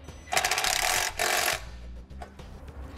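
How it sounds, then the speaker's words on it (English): A driver with a T25 Torx bit tightens a bolt while a Roadmaster EZ base plate is installed on a 2013 Smart fortwo: two loud, close whirring bursts, then quieter mechanical clicks. "I'm gonna be using a T25 Torx bit to tighten up that bolt."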